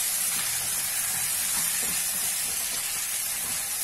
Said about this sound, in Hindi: हम सभी मसाला को अच्छे से मिला लेंगे।